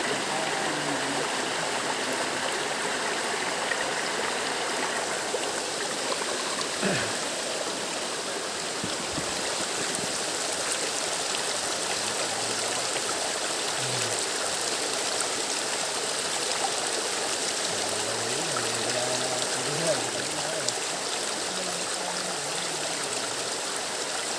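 Stream water flowing steadily at a nature park, a dense continuous rush and trickle that stays loud and even throughout, with occasional faint background sounds beneath it.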